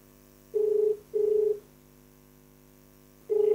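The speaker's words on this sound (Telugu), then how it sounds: "ఫోన్ చేయి మళ్ళీ ఒకసారి కనెక్ట్ అవుతుందేమో చూడు" An unanswered phone call ringing out, with steady electronic ring tones in short evenly spaced bursts, two close together and a third after a long gap, over a quiet background hum.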